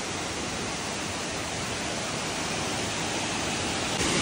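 Elaneeru waterfall near Kudremukh, Chikmagalur, roars as a loud, steady, unbroken wash of rushing water, with no talking.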